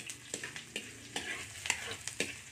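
Squid frying in a pan, with a steady bright sizzle broken by repeated sharp spattering pops, close and fairly loud, and no talk.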